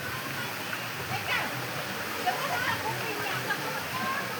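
Rushing water of the river stream below Curug Suakan waterfall, a steady broadband wash with occasional splashes, continuous and fairly close across the whole stretch.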